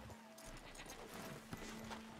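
Horse hooves in the Red Dead Redemption 2 game world, a soft steady clip-clop of a rider's mount moving along, faint and somewhat masked by ambient game sound.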